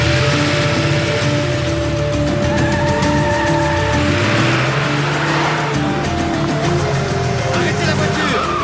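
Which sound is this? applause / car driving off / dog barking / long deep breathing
car driving off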